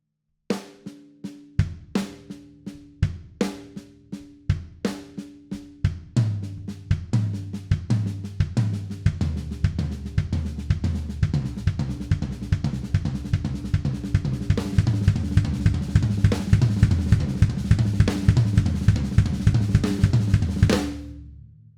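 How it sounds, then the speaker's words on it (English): A linear drum figure of kick, an accented right-hand snare stroke and two soft left-hand ghost notes, repeated on a kit, starting sparse and building into a dense, fast, continuous stream of hits that grows louder before stopping. "which consists of a kick drum note, an accentuated right hand note, and 2 left hand ghost notes"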